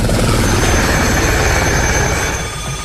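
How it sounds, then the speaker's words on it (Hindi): A helicopter flies over a mountain glacier near an army base camp, its loud, steady rotor and engine roar dominating throughout before easing slightly at the end. "हेलीकॉप्टर सुबह से ही ग्लेशियर पर उड़ान भरते रहे हैं।"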